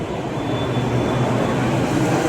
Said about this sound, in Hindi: खैर मेरा मेट्रो आ गया